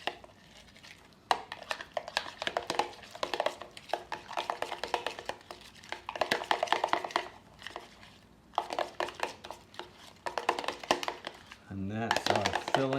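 A crepe filling with a little vanilla is mixed by hand in a bowl, giving steady quick clinking and scraping strokes in bursts with short pauses, and a brief voice at the very end.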